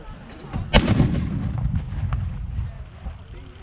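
A single loud artillery blast booms sharply at a military vehicle and firepower show, followed by a rumbling tail and scattered distant thuds, with faint talk underneath.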